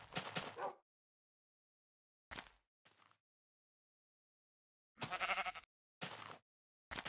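A black sheep in the video game Minecraft bleats in a series of short, separate calls broken by stretches of silence, each one close and clear.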